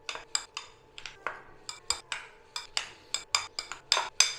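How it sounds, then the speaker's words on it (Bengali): A spoon scrapes and clinks steadily against a bowl while chicken spring roll filling with soy sauce, sugar and salt is mixed, making about a dozen close, crisp strokes in an even rhythm with no voices. "ভালো করে একবার মিশিয়ে নেবো।"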